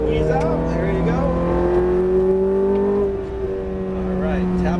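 Ferrari F430 engine holds a steady, loud drone under throttle through a corner, pitch climbing gradually then dipping briefly before settling, with an instructor's voice talking over it.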